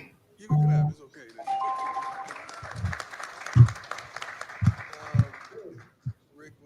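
Audience applause breaks out at a press conference, a broad wash of clapping lasting several seconds, with a few voices mixed in.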